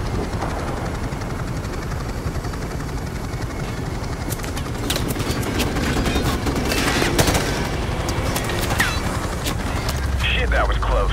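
Gunfire in Call of Duty 4: Modern Warfare Remastered, rapid cracks over a constant helicopter-like rotor drone, growing louder and denser in the second half.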